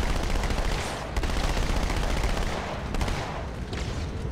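Sustained machine-gun fire and shooting in Halo 2 Anniversary rattle loudly and continuously, with a few sharper cracks standing out amid the dense battle noise.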